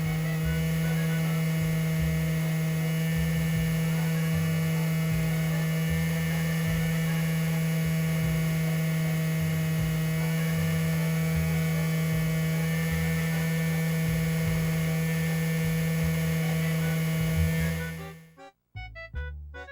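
A Gateway E-4100 optical disc drive struggles to hold a constant speed, giving a steady loud electrical hum and whine with a pulsing low throb. Near the end the sound breaks up into choppy stutters and dropouts.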